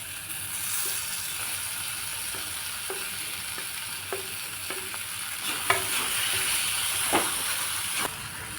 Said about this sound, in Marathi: याला आता तेल सुटायला लागलेलं आहे चांगलं आता यात मॅश केल्याने मी वांगं घालणार आहे